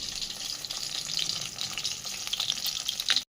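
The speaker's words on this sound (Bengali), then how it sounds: "মাছের একটা সাইড ভাজা হয়ে গেছে, এবার আমি আর একটা সাইডও ভেজে নেব।" Katla fish pieces fry lightly in hot oil in a pan, a close, continuous sizzle and crackle with a few sharper pops near the end.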